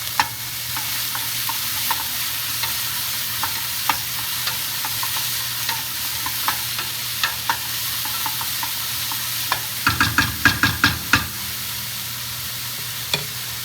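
Ingredients sauté in a pot for pork pozole with a continuous sizzle and a low hum beneath, broken by periodic spoon scrapes and a quick burst of clattering stirring near the end, close and unaccompanied by talk.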